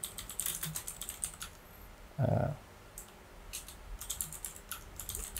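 Quick, light clicks from a computer keyboard come in irregular bursts of typing, with a short pause in the middle where a brief low thump sounds.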